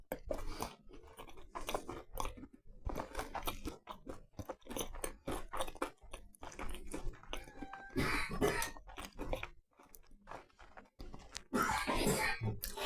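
Someone chews Irish soda bread with a crunchy crust, close and clear, in repeated crunching bites that carry on steadily without talk.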